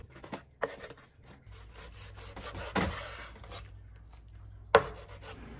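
A knife slices through boneless chicken legs on a cutting board, giving quiet rubbing, rasping strokes with a few sharper cuts spread irregularly, close and faint.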